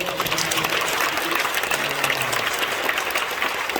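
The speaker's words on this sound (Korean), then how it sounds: "여러분 박수 한번 해주세요" A church retreat audience gives sustained applause for guests from America, a dense, continuous wash of many hands clapping at once, loud and even throughout with no pauses.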